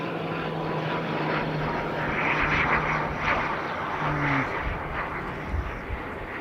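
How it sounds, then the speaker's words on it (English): An ATR turboprop airliner arriving near Christchurch's Harewood Road Mound gives a loud, steady propeller drone with a whining engine tone, heard over gusty wind. "you've got an ATR arriving, which will be the noise that you will hear"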